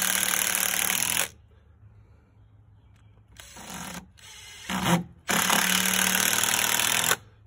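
Power drill driving screws into a wooden joist, with two long loud whirring runs and a few shorter bursts in between, all close and separated by near silence.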